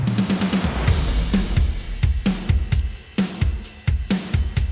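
A full drum kit with bright processing plays a steady rock groove, punchy kicks and snappy snares with crisp, bright cymbal hits on top, loud and upfront.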